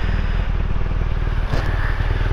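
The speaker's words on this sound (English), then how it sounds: "warming the bike up." A motorcycle engine warms up on a roadside on tour in the Scottish Highlands, a close, loud, steady low throb with a rapid regular pulse and no talk over it.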